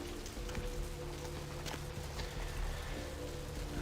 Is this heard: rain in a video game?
yes